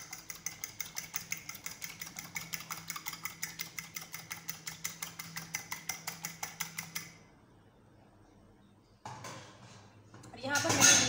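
An egg being whisked with two or three tablespoons of milk in a bowl: quick, even, rhythmic strokes clicking steadily for several seconds, then a pause before a voice begins talking.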